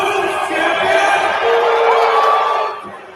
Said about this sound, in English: He's introducing her and they're booing her.